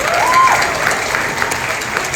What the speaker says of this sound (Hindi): तो इनके लिए बहुत जोरदार तालियां